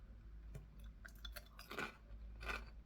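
Crunchy Austrian snack being chewed, a few quiet crisp bites and crunches spread over a few seconds against a low background hum.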